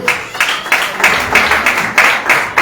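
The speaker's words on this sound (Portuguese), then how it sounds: "Pode aplaudir a Jesus." Church congregation clapping together in a steady, loud rhythm of repeated bursts, close and continuous with no talk over it.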